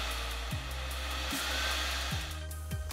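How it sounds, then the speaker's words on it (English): A furnace blower hums steadily during control panel calibration, its low drone stepping up and down in speed several times within a few seconds under a constant airy rush. "Once you hear the blower speed change"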